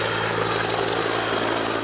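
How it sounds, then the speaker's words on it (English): A military Griffin helicopter of 84 Squadron flies overhead during a field exercise, its engine whine and rotor drone loud, steady and continuous throughout the short stretch. "above them in the air aboard an 84 Squadron Griffin helicopter, more troops are taking pictures of the area"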